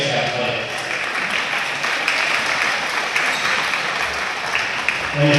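A crowd applauds steadily in a gym at a Wes-Del versus Union high school volleyball game, with sustained clapping throughout and a voice over the PA under it.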